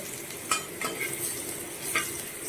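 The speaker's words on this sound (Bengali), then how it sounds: "আমরা ওই মাছ ভাজার তেলের মধ্যেই প্রথমে আলুটাকে দিয়ে দিচ্ছি। আলুটাকে আমরা কিছু সময়ের জন্য আগে ভেজে নেব।" Potatoes frying in oil left over from frying fish, a steady close sizzle with occasional stirring scrapes, no talking.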